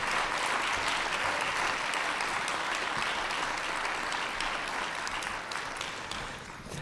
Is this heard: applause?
yes